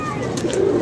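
A pigeon coos softly through steady background noise, with a couple of brief higher bird calls mixed in nearby.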